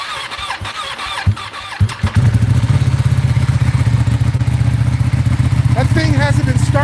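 A car engine that had sat unstarted for a long time on a battery tender fires up. Brief voices and clatter precede it, then it catches into a loud, steady, throbbing rumble held close up.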